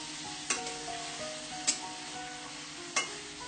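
Paneer cubes fry in a pan under a steady, close sizzle, with three sharp spatula clinks spaced about a second apart as they are turned.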